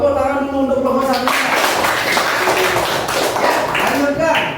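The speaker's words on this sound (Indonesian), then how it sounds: "Tepuk tangan dulu untuk kelompok 1" Classroom applause for the first student group, a dense burst of many hands clapping close by, steady and loud for several seconds with voices mixed in.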